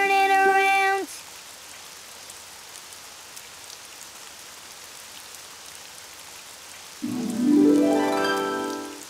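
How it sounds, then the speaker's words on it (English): Steady rain patters on a surface throughout in a children's animated show, with musical tones at the start and again near the end. "Oh, it's raining outside."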